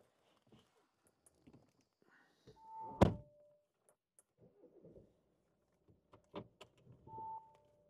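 Car door of an Audi Q5 2.0 TDI slams shut once with a solid thunk, amid soft rustling and movement sounds of someone getting in, quiet and close.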